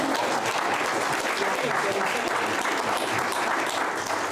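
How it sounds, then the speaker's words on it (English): Steady, dense applause from a large audience at a national youth parliament session, loud and continuous throughout with a faint murmur of voices mixed in. "You know, you can give them a round of applause."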